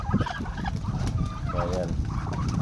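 A turkey gobbles with a quick warbling rattle amid a noisy outdoor background of other fowl and low rumble, on a provincial farm at feeding time.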